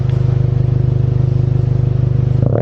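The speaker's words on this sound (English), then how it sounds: "long to start up the car, you can hear the exhaust" A white car at a shop with a turbo build idles loud and close just after start-up, its exhaust a steady, lumpy rumble with a pulsing beat throughout, swelling briefly near the end.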